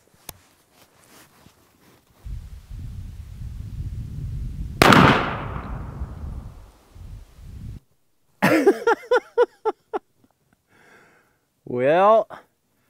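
Shotgun fired from the shoulder with a Federal Premium 3rd Degree turkey load: one loud blast with a decaying tail cuts through a steady background rumble, followed by people talking afterward.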